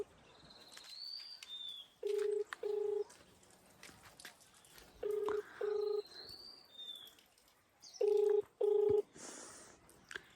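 A phone keypad is dialed to place a call: a series of short, clear touch-tone beeps, mostly in quick pairs, spaced across several seconds, with faint birdsong and quiet background noise between them.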